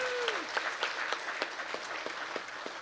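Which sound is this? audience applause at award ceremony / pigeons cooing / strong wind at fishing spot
audience applause at award ceremony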